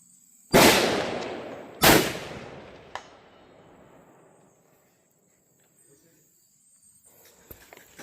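A Winchester Model 70 Featherweight rifle in .270 Win fires two loud outdoor shots about a second apart, each with a long rolling echo, followed by a faint distant crack of the bullet striking the target.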